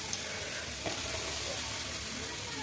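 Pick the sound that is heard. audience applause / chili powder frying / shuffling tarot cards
chili powder frying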